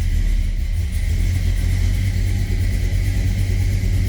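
A 1969 Oldsmobile Cutlass S Holiday Coupe V8 idling steadily after a cold start, a loud, close, continuous low rumble with no voices over it.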